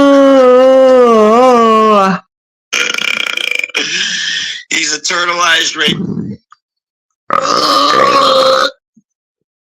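A long, loud, pitch-wavering burp opens, followed by a voice speaking in short bursts with a brief low grunt-like sound between them.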